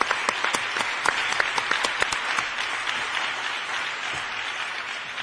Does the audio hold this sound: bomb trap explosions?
no